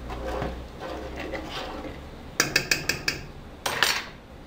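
Jamoncillo candy mixture being stirred in a pot over low heat, a soft scraping background followed by a quick series of sharp spoon knocks and clatters against the pot rim.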